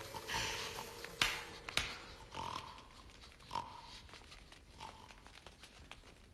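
Pigs oinking, grunting and snorting in a stage play, several short squeals and grunts spaced across the stretch, moderately near over a low hum.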